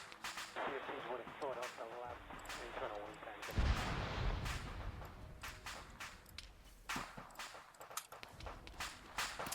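Gunfire from the Arma 3 video game rings out in loud, repeated cracks and booming blasts, with a heavy explosion partway through, over rumbling battlefield noise and someone talking.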